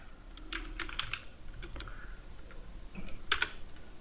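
Fingers type on a computer keyboard in quick, irregular bursts of crisp key clicks, close and fairly quiet, with no speech.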